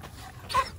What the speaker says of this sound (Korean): 맥스는 4개월 미니 레브라도르 강아지입니다